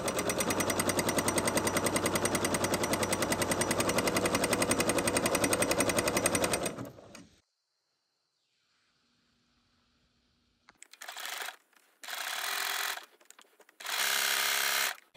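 A sewing machine runs a fast, steady zigzag stitch along a stretched lettuce hem for several seconds, then stops, followed by silence and three short bursts of stitching, with no talking.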